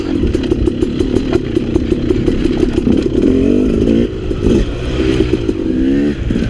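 A KTM 300 XC two-stroke dirt bike engine runs loud and close while being ridden, with a steady buzzing drone and some revving and mechanical clatter throughout.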